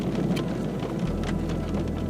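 Steady rain drums on a vehicle during a storm chase in Nebraska, a dense, continuous hiss with a low rumble underneath that holds at even loudness throughout.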